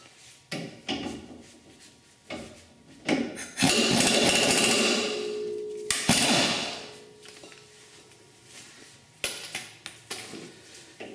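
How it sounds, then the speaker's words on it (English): Hand tools work the sway bar link nuts on a Nissan Frontier strut job, with scattered metallic clanks and knocks, a louder stretch of rattling effort midway, then irregular close taps near the end. "You can go ahead and remove the nuts and remove the link,"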